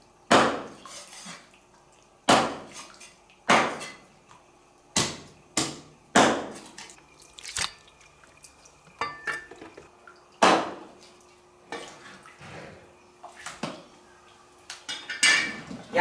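A cleaver chops through a whole duck for Guangxi-style blood duck, sharp loud whacks on a chopping board at irregular intervals, about a dozen strikes with quieter knocks and rattles between them, no talk.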